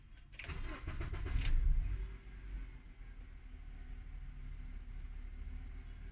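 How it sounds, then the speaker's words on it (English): A car engine cranks and catches, with a short burst of starter whir and firing for about a second and a half, then settles into a steady, quiet idle. "Start the car."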